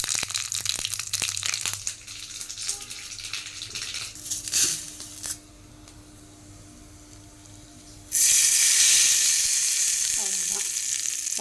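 Curry leaves and a single dried red chilli tempered in hot oil and poured into road-side style onion chutney, giving a loud, bright sizzle that bursts in suddenly and holds steady after quieter stirring and clatter.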